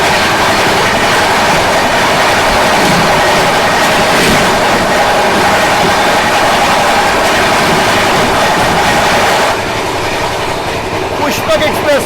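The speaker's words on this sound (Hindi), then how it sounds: "इसके पीछे पीछे पुष्पक एक्सप्रेस आ रही है।" Pushpak Express passenger train rolling past close by at an Indian station, a loud steady roar of wheels and rattling coaches with rhythmic clickety-clack throughout, easing slightly near the end; faint voices underneath.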